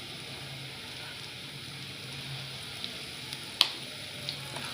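Garlic, cumin and asafoetida tempering sizzles in hot oil for a baingan bharta on a terrace, a soft continuous crackle with a few sharp pops and one louder spatter.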